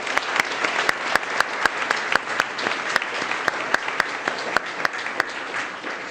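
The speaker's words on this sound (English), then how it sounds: "if we can give a round of applause for our consulting partners" An audience at the Irvine CubeSat STEM program kick-off gives a round of applause for the consulting partners: a steady, moderately loud patter of many hands with crisp individual claps standing out throughout.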